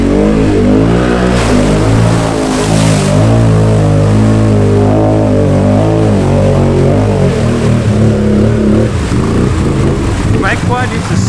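A quad ATV engine revs loud and close as it labours through a muddy hole, the pitch rising and falling with the throttle nearly throughout, with a voice briefly underneath.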